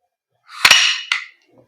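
Two quick sharp cracks, close and loud, ring out from a Umarex GHK Glock 17 Gen 5 airsoft gas blowback pistol, with a faint click just after.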